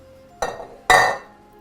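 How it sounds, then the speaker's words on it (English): Beans tipped into a soup pan give two sharp clattering, clinking bursts close by, each fading quickly, with quiet between them. "And you add the beans."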